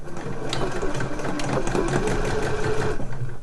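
A sewing machine stitches the front seam of fabric slipper boots at a 1 cm seam allowance, a loud close-up whirring chatter with rapid needle beats that runs steadily, then slows and stops near the end.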